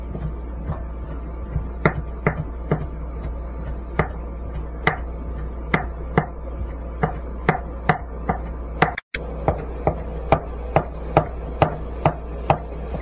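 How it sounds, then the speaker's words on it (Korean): A knife slices kalguksu noodle dough on a cutting board, producing steady, evenly spaced sharp chops close by, about one every half second to second, with a short gap near the end and no talking. "일정한 크기로 칼국수를 모두 썰었습니다."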